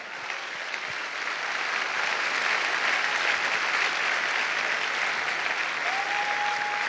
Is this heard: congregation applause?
yes